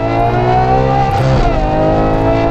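A Ferrari Purosangue fitted with a Novitec Esteso widebody kit revs hard nearby, its engine note loud and harmonic-rich, rising and falling through a brief dip before climbing again, with no talking.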